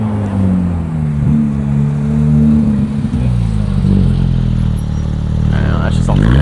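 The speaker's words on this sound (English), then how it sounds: "That one went through like 4 gears just right here." A supercar at a cars-and-coffee meet accelerates hard and revs up through several gears, its loud engine climbing and dropping in pitch with each shift, close by, with people talking faintly under it.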